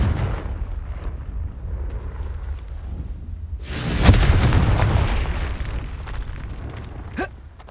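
A Confringo blasting spell explodes in the Hogwarts Legacy video game with a loud booming burst and a rumbling tail, heard over a steady game soundscape and followed by a fainter crackle.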